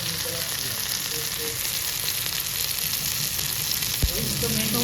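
Large Konkan Bombay duck (bombil) fish fry in a pan with a steady, close, dense sizzle, broken by a single sharp clatter near the end. No talking is heard.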